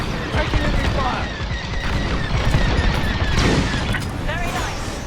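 Enemy blaster fire strikes the player's starfighter in Star Wars Squadrons, a dense barrage of loud bursts and crackling impacts with booming hits, continuous throughout, with radio voices over it.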